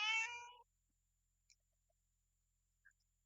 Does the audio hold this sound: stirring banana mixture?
no